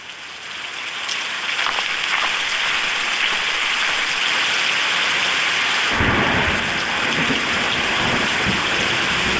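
Cartoon rain pours steadily on a surface while thunder rumbles, the downpour swelling from quieter to loud and a heavy low rumble breaking in around the middle, with no talk.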